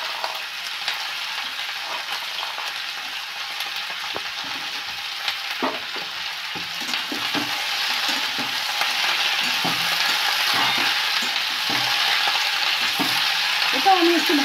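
Potatoes and onion stalks frying in a pan, a steady close sizzle with intermittent stirring scrapes and clinks, growing a little louder toward the end, no talking.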